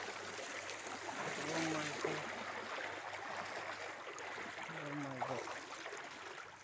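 Wading across the Gavoru river, the water rushes and swirls in a steady, close broadband roar, with a voice briefly exclaiming over it.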